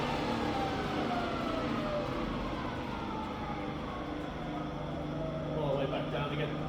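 A rebuilt Bridgeport milling machine spindle runs in high range with the quill engaged, a steady whirring machine drone that rises in pitch as speed climbs from about 1,000 to 2,200 RPM, loud and continuous throughout.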